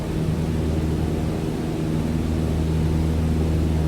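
In Microsoft Flight Simulator, a Cessna 152's propeller engine drones steadily in flight, a constant low hum with a hissing airflow wash, even and unbroken with no voices.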